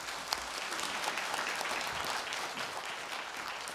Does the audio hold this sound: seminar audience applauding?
yes